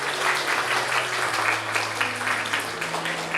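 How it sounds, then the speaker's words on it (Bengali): An audience claps loudly and steadily for a teacher at a televised teen event, the applause dense and sustained throughout. "তার জন্য খুব জোরে একটা করতালি।"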